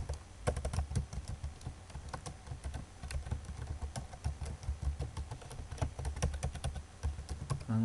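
Steady, fast keystrokes on a computer keyboard while code is being written, a continuous close clatter of individual key taps running the whole time with no talking.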